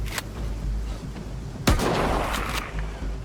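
Gunfire in an open-world survival shooter game: a sharp distant crack early on, then a louder heavy boom with a rumbling tail, set against steady low ambient noise.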